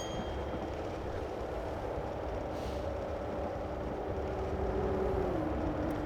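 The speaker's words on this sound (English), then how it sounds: "That coming the other way was a train." A passing train in the Train Simulator Classic game on the East Coast Main Line, a steady rolling rumble with a rising pitched whine toward the end, continuous and fairly loud with no talking.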